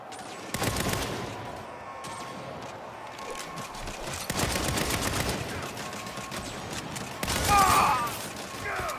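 Gunfire in Saints Row, with bursts of automatic and rapid shots across the scene. It is loudest early on, near the middle and again near the end, over steady game ambience with talk mixed in.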